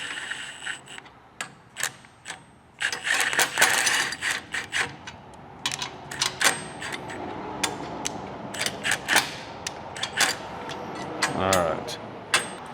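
A hand ratchet runs down the bolts on a full-size bumper for a fourth-generation Toyota Tacoma, giving bursts of rapid, sharp clicking with pauses between strokes, close and clear, with some talk mixed in.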